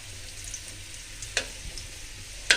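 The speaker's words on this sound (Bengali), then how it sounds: "আমি আলুগুলো সুন্দর মতো ভেজে নিতেছি তাওয়ার মধ্যে" Potatoes frying in a tawa pan for biryani, a steady soft sizzle with a couple of sharp clinks from stirring or utensils against the pan.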